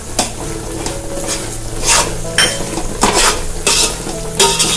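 Ghee stirred into a thickening coconut burfi mixture in a pan, a close series of scraping spoon strokes with clinks against the metal over a low background sizzle, repeating roughly every second.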